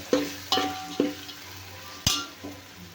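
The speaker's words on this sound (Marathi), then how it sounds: "आता घालूया टोमॅटो. तर इथे मी 4 टोमॅटो घेतलेले आहेत. परतून घेऊया व्यवस्थित" Tomatoes, four of them, tossed into a hot pan over ginger, garlic and coriander for a Telangana-style chicken dish, giving several sharp stirring clatters against a steady sizzle, close by with no talk.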